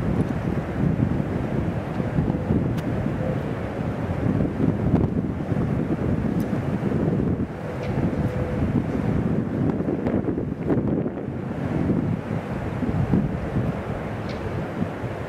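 Strong gusting wind of about 25 mph buffets the microphone on a golf course, a loud, constant low roar and rumble that fills the whole stretch without voices.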